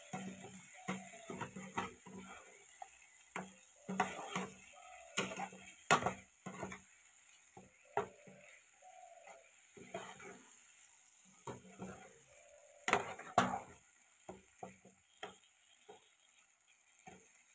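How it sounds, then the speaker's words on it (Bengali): A spatula stirs spice masala frying in a pan for a home-style paneer dish, making scattered scraping clacks and taps over a faint, low sizzle, with pauses between strokes. "এবার আমরা ভালো করে নেড়ে চেড়ে নেব,"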